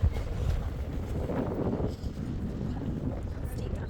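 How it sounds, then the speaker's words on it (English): Steady wind buffets the microphone with a constant low rumble, fairly loud and unbroken throughout. "Oh, it's windy."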